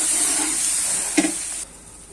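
A hot pan of bograch sizzles and hisses steadily as broth is poured in, with one brief splash partway through before the loud steamy hiss suddenly drops to a quieter simmer.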